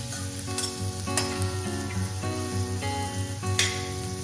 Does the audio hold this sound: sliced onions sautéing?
yes